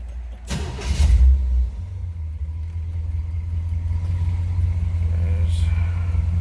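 Car engine on a lift catching with a brief loud burst, then settling into a steady low idle rumble close by, with no speech over it.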